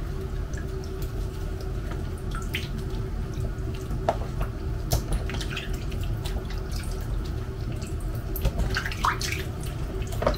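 Meat is rinsed under running water before freezing: a steady tap stream splashes continuously, with scattered drips and small clinks close by.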